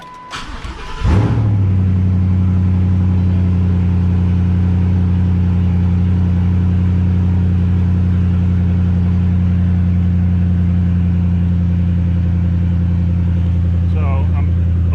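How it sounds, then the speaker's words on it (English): A Ford Coyote swap engine cranks briefly and then catches, settling into a loud, steady idle with a deep, even rumble that continues close by to the end. "Let's see if we get extended crank here."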